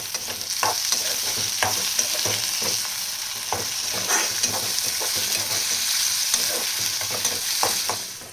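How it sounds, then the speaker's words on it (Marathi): Onion and tomato fry for matki rassa in a home kitchen, with a constant hissing sizzle broken by regular scraping strokes of a spatula stirring the pan, close and even. "टोमॅटो कांदा चांगला तळला"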